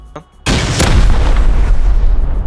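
A garage blown apart in the video game Rust: a sudden loud, deep explosion that booms and rumbles on for two seconds after a short quiet lead-in.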